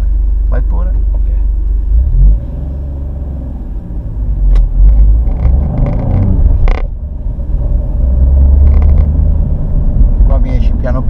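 An Alfa Romeo Giulia Quadrifoglio engine rumbles steadily as the car pulls away, a low continuous drone with a mild rise in revs. People talk over it inside the cabin.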